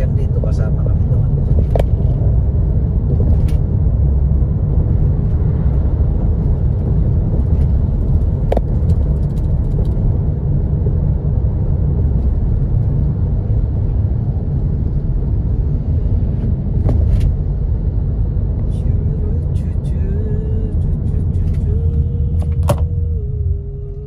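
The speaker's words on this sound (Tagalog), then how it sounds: "sa dami ng sasakyan dito" Road traffic rumbles on a busy street in Hong Kong, a continuous loud low roar of passing vehicles with occasional clunks and sharp knocks, while a voice talks over it.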